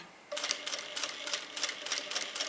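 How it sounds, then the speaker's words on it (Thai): An industrial sewing machine stitches a curved seam in fabric, a fast steady rhythmic whirring and tapping that starts abruptly and runs loud and close without a break. "เดินเส้นแบบนี้เลย แล้วพอมาถึงจุดโค้งค่ะ ก็หมุนผ้าแบบนี้"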